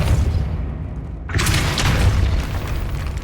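A Depulso spell cast in a Hogwarts video game: a loud booming blast that swells abruptly partway through and rumbles on, sustained and heavy.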